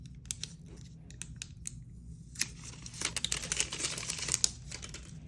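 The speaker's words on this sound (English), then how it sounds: "Let's unwrap the block." An iPad Air charger block is unwrapped from its packaging, giving close, quiet crinkling, small tearing and tapping sounds in irregular bursts that grow busier toward the end, with no voices.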